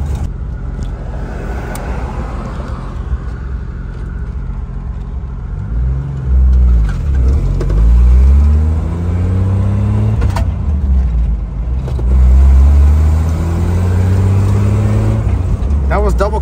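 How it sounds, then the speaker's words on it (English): A 1988 Jeep Wrangler YJ drives along, its engine humming steadily and rising in pitch as it is double clutched through the gears, shifting smoothly into second without grinding, with someone speaking over the engine. "Double clutching in second gear, no grind."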